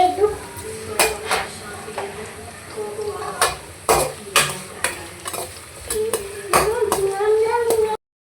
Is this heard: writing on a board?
no